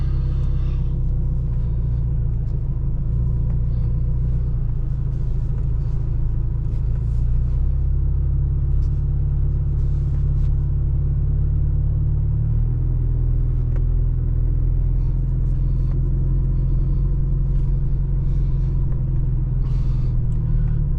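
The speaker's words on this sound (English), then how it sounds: "It is surprisingly very quiet compared to other Toyota diesels that I've driven." A 1996 Toyota Crown with a 2.4-litre turbo diesel and a straight pipe drives along, its engine a steady, loud low rumble with road noise, continuous and without speech.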